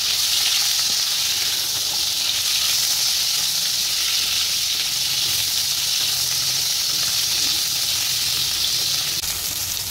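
Pieces of a large 3–4 kg rohu fish fry in hot oil, giving a steady, close, bright sizzle that hisses evenly and without pause.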